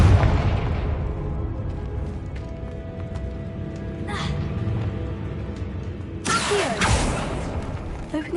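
Confringo blasting spell in Hogwarts Legacy, a loud booming burst with crackling debris, preceded by game ambience and a brief whooshing effect, with a sharp blast later in the scene.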